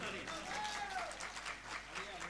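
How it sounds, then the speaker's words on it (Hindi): An audience claps at a Hindi comedy poetry gathering, a dense burst of applause lasting a couple of seconds with voices mixed in. "नहीं सुनो तो एक बार ताली बजा बताओ"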